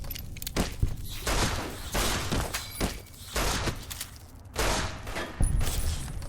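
Bursts of gunfire in Fallout: New Vegas aimed at a young tarantula, a giant spider, with repeated sharp shots in irregular clusters and brief pauses between volleys, loud and close.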